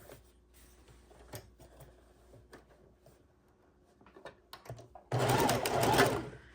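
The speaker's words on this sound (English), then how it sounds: "we have our two pieces we are going to go ahead and sew together" After a stretch of quiet fabric handling and small clicks, a sewing machine starts stitching two quilt pieces together, a loud close whir lasting the final second or so.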